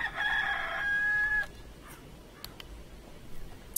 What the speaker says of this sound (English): Investigate the chicken.